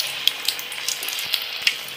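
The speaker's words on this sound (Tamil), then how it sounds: "ஆயில் நல்லா ஹீட் ஆகிருக்கு. இப்போ ஆயில் வந்து ஒன்று ஒன்றா எடுத்து சேர்த்துக்கலாம்." Cauliflower florets for gobi manchurian fry in hot oil, a close, even crackling sizzle broken by small sharp pops, with no speech.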